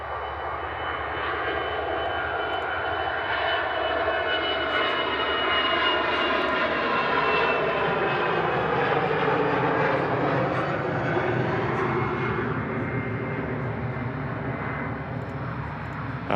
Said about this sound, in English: Finnair A319 rolling down the runway